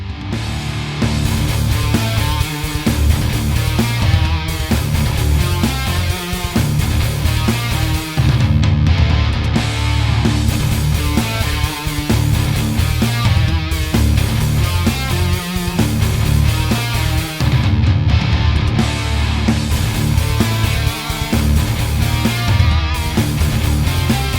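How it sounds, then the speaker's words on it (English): Heavily distorted electric guitar plays the next riff of a metal song, loud and continuous with choppy palm-muted rhythms and short gaps, played alone without talk. "next section, which sounds like this."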